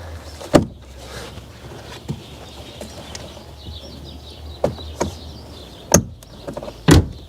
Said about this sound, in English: So let's attempt to remove this plastic,